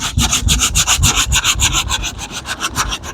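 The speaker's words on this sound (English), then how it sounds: "I'm comfortable with the 80 grit sanding that I've done now" Rapid back-and-forth strokes of 80-grit sandpaper scuffing a damaged plastic car bumper during repair, a steady close rasping rhythm of about five strokes per second, loud with no talking.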